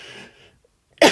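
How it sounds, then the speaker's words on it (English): A single short, sharp cough bursts out at the end, close and loud, after a faint fading tone and near silence. "excuse me while I cough"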